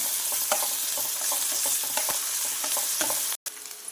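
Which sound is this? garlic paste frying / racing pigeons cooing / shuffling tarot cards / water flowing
garlic paste frying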